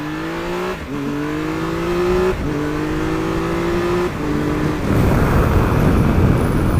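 A Triumph Tiger 1200 motorcycle engine revving at half to three-quarter throttle through several rising pulls, each climbing in pitch before dropping back, loud and close, ending in a rough roar.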